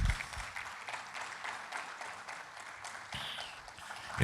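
A church congregation claps during a Spanish-language sermon, giving irregular, moderately loud applause that carries on steadily and then swells briefly near the end.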